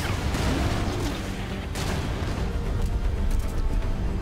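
Gunfire and booming blasts in a boss fight in the video game Metal Gear Solid V: The Phantom Pain, a few sharp shots and rumbling impacts over dense game noise, fairly loud throughout.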